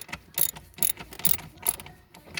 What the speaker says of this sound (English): So we're gonna pull this support bolt right here,